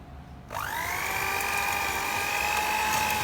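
An electric hand mixer starts up after a brief pause and whirs steadily at high speed, beating room-temperature cream cheese with powdered sugar, a close, continuous motor whine with no voices.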